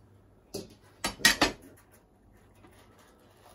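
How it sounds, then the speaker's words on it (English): A knife cutting celery on a cutting board, a few sharp separate chops and knocks spaced over a second, close and clear against near silence. "And I'll chop up my celery."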